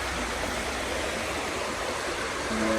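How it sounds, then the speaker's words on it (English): The River Toon meanders through a secluded glen valley as a steady, broadband rush of flowing water, constant and fairly loud, with no voices over it. "A beautiful river."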